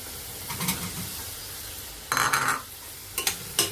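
Chopped onion and carrot sauté in a pan for a green peas curry made with coconut milk, with a soft sizzle under short bursts of stirring and scraping against the pan.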